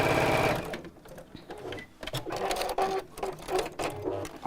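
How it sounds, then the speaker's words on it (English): A domestic sewing machine stitches a small box bag in short motor-driven runs with brief pauses between them. The whirring rattle is close and clear, with no talk. "So I'll just sew down here"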